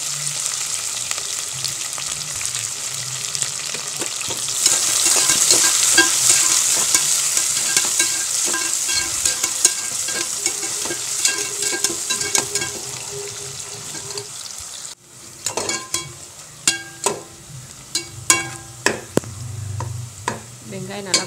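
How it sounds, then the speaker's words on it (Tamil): Onion and green chili fry in a pan of hot oil for Kuska, a steady close crackling sizzle that later gives way to sharp repeated stirring scrapes and knocks of a spoon against the pan. "வெங்காயம் நல்லா வதங்கிடுச்சு."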